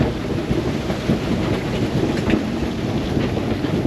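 Heavy rain pours steadily during a thunderstorm in Mazatlan, Mexico, with low rolling thunder rumbling beneath a constant dense wash of rainfall, loud and close throughout.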